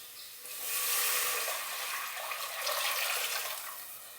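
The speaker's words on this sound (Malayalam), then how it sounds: "ഇനി ഇതിലേക്ക് എടുത്തു വെച്ച വെള്ളം ഒഴിച്ചു കൊടുക്കാം." Water poured from a container into a pot for virinji yellow rice, a splashing gush that swells, holds steady for a few seconds, then eases off. No voices.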